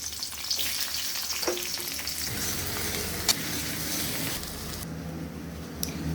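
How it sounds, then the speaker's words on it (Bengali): Chopped onions for biryani drop into hot oil in a pan and fry with a steady, close sizzle and crackle, with a few sharp pops and stirring clicks. "এবার পেঁয়াজটা যেটা কেটে রেখেছিলাম এখানে ছেড়ে দিলাম।"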